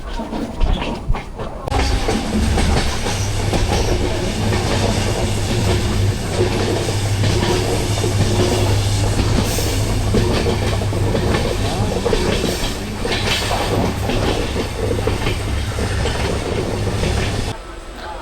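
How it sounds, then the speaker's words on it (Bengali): Passenger train approaching Guwahati in Assam, heard from on board: a steady loud rumble with rhythmic wheel clatter and a low hum running throughout, starting and stopping abruptly with no voices. "ট্রেন এখন গুয়াহাটি ঢুকছে,"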